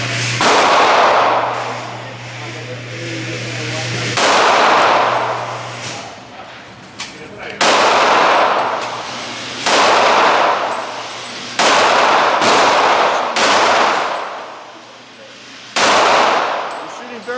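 Glock pistol shots ring out at an outdoor shooting range, about nine loud, sharp reports spaced one to three seconds apart, each trailing off in a long echo, with a steady hum underneath.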